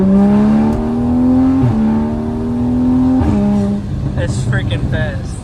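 A tuned 2020 Toyota Supra's engine revs loudly and close by, its pitch climbing in two long pulls, each cut off by a short drop, before the engine settles into a rougher, noisier tail.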